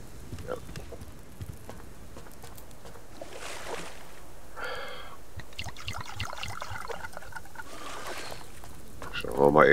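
Water is gathered in the survival game Subsistence, with faint trickling and sloshing set against outdoor ambience and birdsong, brief louder splashes, and a soft voice talking over it.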